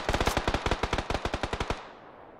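Rapid automatic gunfire in the video game PUBG: a burst of about seventeen evenly spaced shots, loud and close, cuts off abruptly and leaves a fading tail of echo.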